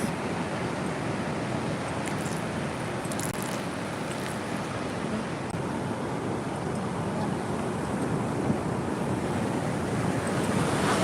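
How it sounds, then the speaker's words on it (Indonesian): Steady roar of surf washing onto a beach, continuous and fairly loud with wind buffeting the microphone, no voices. "cuma sekarang lagi di pantai"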